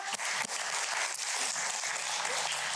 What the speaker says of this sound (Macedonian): убав аплауз за Маја